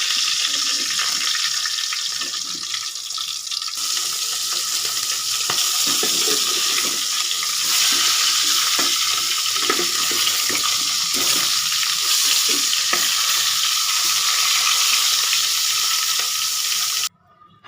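Chicken pieces sizzle steadily in hot oil in a pot for a roast chicken dish, a loud, continuous frying hiss with scattered crackles and spatters, no voices, cutting off abruptly near the end.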